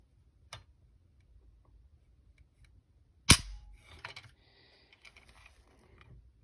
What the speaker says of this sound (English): using the trigger pull scale, we're going to go ahead and get an average. I'm going to run this 3 times